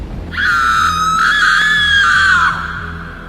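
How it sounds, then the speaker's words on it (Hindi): A loud, sustained high scream echoes through a hall, rising and holding for about two seconds before cutting off, with a low rhythmic hum beneath it. "नीचे हॉल में अचानक एक तेज चीख गूंजी।"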